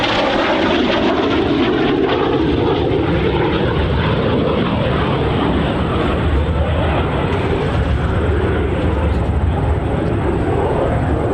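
A Frecce Tricolori jet formation rolls overhead at the 2024 New York airshow, producing a loud, continuous, broadband jet roar that holds steady throughout without a break.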